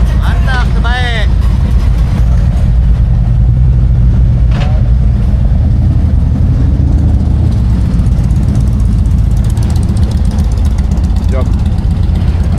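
Harley-Davidson motorcycle engine idles with a steady low rumble throughout, loud and close, while people talk over it.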